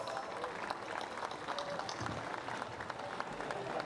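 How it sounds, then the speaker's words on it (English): Steady applause from a crowd at a motor racing podium ceremony, continuous clapping at moderate distance with a faint murmur of voices underneath. "applause."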